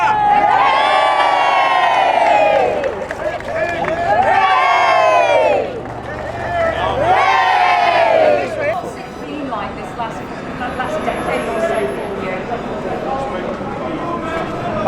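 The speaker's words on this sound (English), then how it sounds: "Big cheer!" A large crowd cheers and whoops loudly at a courthouse after a long legal fight for justice, with the roar swelling in waves and excited voices and shouts mixed throughout.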